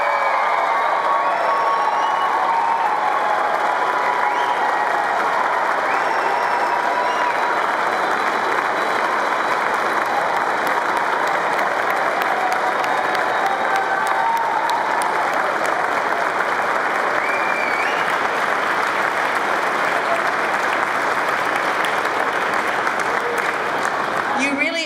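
Sustained applause with scattered cheers from a large convocation audience honouring graduating classes at SFU, a long wash of clapping that stays steady and full throughout, with faint voices mixed in.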